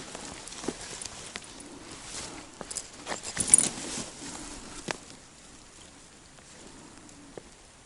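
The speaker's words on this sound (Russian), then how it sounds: "Такой спокойный дождь." Soft, gentle rain patters steadily beside a taiga river, with scattered light drops and a few faint rustles, calm and fairly quiet throughout.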